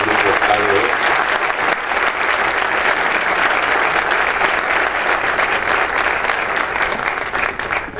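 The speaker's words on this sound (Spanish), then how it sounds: "Un aplauso muy fuerte al grupo ADO" An audience at an environmental cooperation awards ceremony breaks into strong, sustained applause, dense clapping filling the room for several seconds before tapering slightly at the end.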